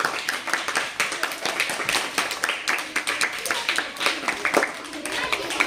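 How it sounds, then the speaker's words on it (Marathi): A group of primary-school children clap together in a classroom, a dense, steady patter of many hands that continues without a break, with voices mixed in. "जोरात एकदा टाळ्या होऊन जाऊ द्या"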